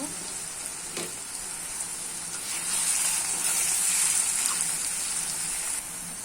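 Koi fish frying in hot oil, a close, bright continuous sizzle that swells louder in the middle and eases slightly near the end, with a faint knock or two.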